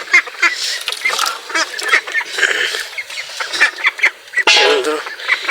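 Ducks quack repeatedly in a busy, overlapping chorus, loud and close, with brief pauses between bursts.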